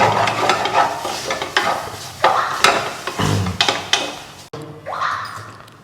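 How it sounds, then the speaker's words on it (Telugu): Fish curry with fenugreek seeds sizzles loudly in a pan while a spoon scrapes and stirs in repeated strokes, close up, with a steady frying hiss throughout. "మెంతులు కూడా వేయించారు కదా ఫిష్ కర్రీ ఫ్లేవర్ వచ్చేస్తుంది"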